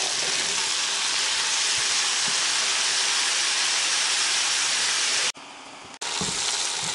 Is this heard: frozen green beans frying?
yes